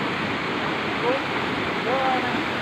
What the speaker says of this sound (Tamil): தண்ணி ஊற்றுது தண்ணி எங்கேருந்து தெரியல கீழே வந்து நீர்வீழ்ச்சி கீழே நீர்வீழ்ச்சி பாருங்கள்